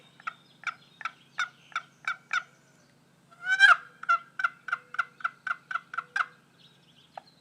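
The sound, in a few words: 1958 Lynch turkey call imitating turkey gobbles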